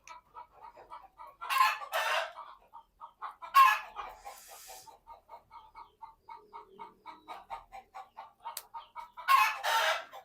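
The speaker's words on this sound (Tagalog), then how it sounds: "Kasi nag-ingay naman yung mga manok sa labas." Chickens outdoors cluck in a steady rhythmic series while roosters crow loudly three times in long bursts, heard fairly close in the yard.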